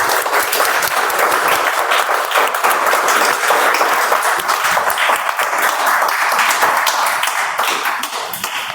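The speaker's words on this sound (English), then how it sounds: "Let's have a thundering applause for our contestants." Thundering applause from the audience at an international speech contest, honoring the contestants: many hands clapping in a dense, sustained roar that tapers slightly at the very end.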